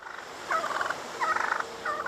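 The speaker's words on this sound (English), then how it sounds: "wild turkeys are an everyday occurrence in this Montreal borough" Wild turkeys gobbling in a Montreal borough, three rapid warbling gobble bursts in succession, fairly close and clear over a soft outdoor background, no talking.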